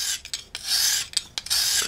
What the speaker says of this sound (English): sharpen the knife.